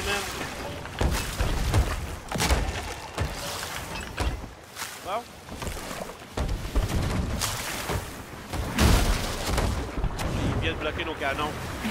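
Cannon fire in the pirate ship game Sea of Thieves, with loud booming blasts and crashing impacts repeating over rolling sea noise while players talk excitedly over the chaos.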